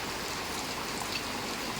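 Heavy rain pouring down near a shop by a temple, a dense, steady wash of hiss and patter that stays even throughout.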